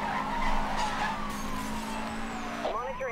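Tires skid and squeal as a car drifts in Need for Speed Hot Pursuit, a sustained screech with engine roar over about three seconds, a voice talking alongside.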